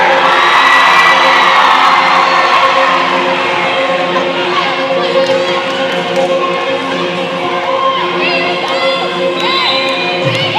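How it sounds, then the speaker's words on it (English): Jamestown supporters at a high school volleyball match in a gym cheer and shout continuously, a dense crowd roar with whoops and scattered claps and thumps, loud and steady throughout. "Jamestown, let me hear you cheer."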